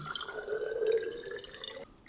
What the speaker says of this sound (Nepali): नर्मल पानी हालौँ